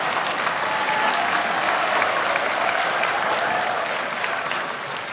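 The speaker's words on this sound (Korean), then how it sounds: "뜨거운 박수 부탁드리겠습니다." Warm applause from a political party gathering's audience as a Jeju provincial party chair is introduced to give a congratulatory speech, a dense, even wash of many hands clapping that holds steady throughout and eases slightly at the end.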